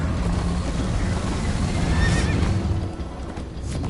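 A video game horse neighs and whinnies over a continuous rush of galloping hooves and ambient noise, steady and fairly loud throughout.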